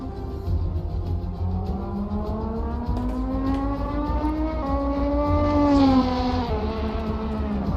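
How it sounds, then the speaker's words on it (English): LMP2 race cars at Le Mans in a racing video game, a loud, continuous engine whine rising and shifting pitch as the cars accelerate through the Porsche curves, close and without talking. "It's Danny Nasir around the Porsche curves."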